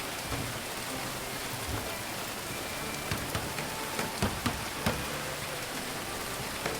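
Steady rain pours in the medieval colony-building game Going Medieval, a dense even hiss of drops with a few sharper patters standing out near the end, with no talking.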